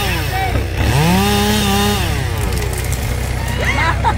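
Chainsaw cutting through a tree branch outdoors, engine revving and whining up and down in pitch close by, with people talking and shouting over it.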